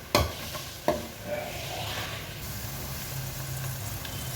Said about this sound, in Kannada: ಶೇಂಗಾ ಚಟಪಟ ಅಂದ ಅಂದ ಮೇಲೆ ಸಾಸಿವೆ ಹಾಕಬೇಕು